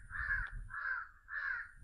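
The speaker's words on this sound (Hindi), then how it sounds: "कहीं कुछ कौवा बोल रहा है" Crows caw in a mango orchard, three drawn-out harsh calls in a steady rhythm at moderate distance, with faint low background rumble and no talking.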